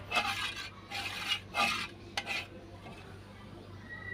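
A pot of boiling milk stirred continuously, with rhythmic scraping strokes of a spoon against the metal pot over a low steady hum, no talk.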